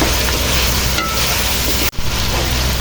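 Spices being stirred into chicken karahi in a pan, with a steady sizzle and scraping, broken by one brief clatter near the end.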